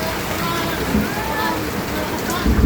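Steady rain falls on a street during a tricycle driver's rainy-day run, a continuous close hiss of drops with a low rumble underneath.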